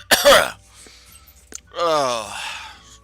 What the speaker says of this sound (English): I've just started another coughing fit